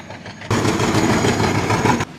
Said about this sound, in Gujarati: ગુડ્સ ટ્રેન ધીમે ધીમે ચાલી રહી છે